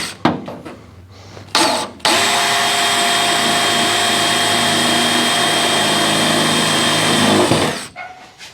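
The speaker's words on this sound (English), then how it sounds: "So now we're just gonna put a pilot hole from the bottom" A power drill bores a pilot hole up from underneath a part on a 1957 Chevy hardtop, running as a loud, steady whine for about five seconds after a couple of short bursts.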